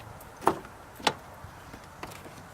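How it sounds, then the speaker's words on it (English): Two sharp clicks and clunks from working the rear door handle and latch of a 2006-2010 Saturn Outlook, close and brief, followed by a fainter tap. "Go ahead and start by opening up your door."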